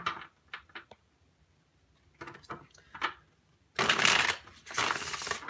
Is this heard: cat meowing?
no